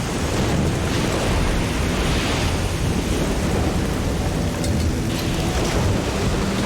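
Dense stormy roar from the pirate game Risen 2: Dark Waters, heavy rain and wind rumbling continuously at a loud, steady level with no clear thunder claps standing out.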